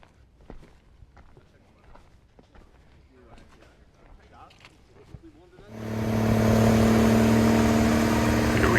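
A concrete truck's engine runs during a timber frame foundation pour in Tennessee, a loud steady drone that starts suddenly partway through and continues to the end, after a stretch of footsteps and quiet site noise.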